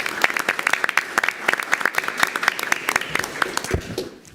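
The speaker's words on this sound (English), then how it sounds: "So we can have a round of applause for all those" An audience at a school board meeting gives a short round of applause, a modest number of distinct, closely spaced claps that fade out after about four seconds.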